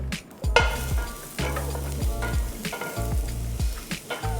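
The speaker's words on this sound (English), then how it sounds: "Garlic in. We want the garlic nice and golden." Garlic sizzles in a hot pan, stirred with a utensil so it scrapes and clatters in short bursts over a steady frying hiss. It is close and fairly loud, with no voices.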